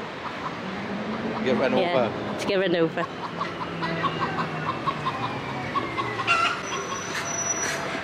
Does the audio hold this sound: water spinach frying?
no